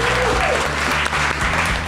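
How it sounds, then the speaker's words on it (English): A live-event crowd at a Michigan politics show applauds a producer, broad, even clapping that fills the room and stays loud, with a low steady tonal hum running underneath. "Round of applause for Hernz,"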